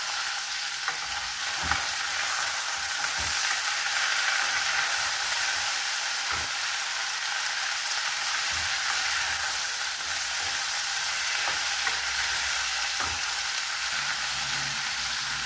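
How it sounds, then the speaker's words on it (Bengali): Ridge gourd and potato frying in a pan, a continuous close sizzle with intermittent spatula stirs and knocks against the pan and no voices. "অল্পক্ষণ ভাজবো।"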